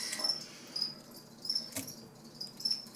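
Crickets offered as live feed to a pet reptile, a few faint chirps recurring in a steady, near rhythm over a quiet background.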